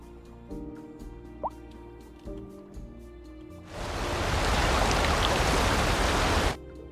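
Water rushing in to fill a reservoir in Cities: Skylines 2, a loud broad gushing roar that starts abruptly partway through, holds steady for about three seconds, then cuts off, after quieter drips and game tones.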